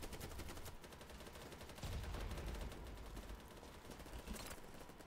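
Rapid gunfire from BattleBit Remastered, a dense run of shots that stays loud and steady throughout, with a heavier burst near the middle and no talk over it.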